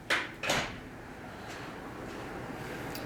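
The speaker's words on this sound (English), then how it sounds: "I'm gonna close that door real quick because they're talking loud as hell." A door pushed shut indoors gives two quick sliding bumps close together, then a faint room hiss with no talking.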